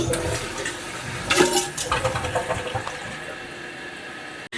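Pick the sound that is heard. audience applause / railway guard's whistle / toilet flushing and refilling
toilet flushing and refilling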